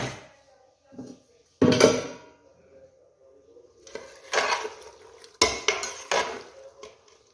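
In a kitchen, a pressure cooker lid is lifted off and the pot and utensils are handled, making a few separate loud metallic clanks and scrapes between short quiet gaps.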